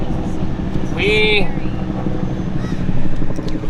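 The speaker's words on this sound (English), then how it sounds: "They got the helicopter out and everything." A steady rotor thrum and engine drone fill the clip, with a brief high whine and a voice speaking over it partway through.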